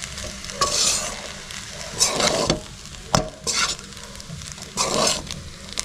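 A spoon stirs rice and masala for vangi bath in a hot pan at a village cooking spot: repeated scraping strokes, roughly one each second, over a continuous close sizzle of frying, with no talking.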